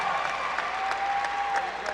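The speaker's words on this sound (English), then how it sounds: "Give them a round of applause." A crowd at a McCluer High School graduation applauds the class of 2021, dense clapping throughout with a faint sustained tone running beneath it.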